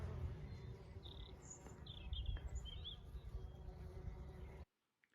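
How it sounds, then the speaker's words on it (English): Steady insect buzzing from bees among phacelia flowers, continuous and moderately close, with a few faint bird chirps above, cutting off abruptly near the end. "just listen to the bees enjoying an early season feast on it"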